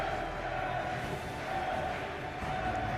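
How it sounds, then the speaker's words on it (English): Crowd noise at a Riftbound card game tournament in Bologna: a dense, steady roar of many voices and cheering, held at an even level throughout. "the crowd is going ballistic here in Bologna"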